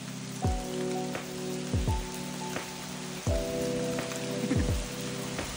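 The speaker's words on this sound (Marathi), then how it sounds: "पाऊस थांबाचं नाव घेत नाही खूप जोरात आला" Heavy monsoon rain pours down in a steady, dense hiss, broken by several loud, ringing thuds a second or so apart, as if heavy drops or runoff strike a hollow surface nearby.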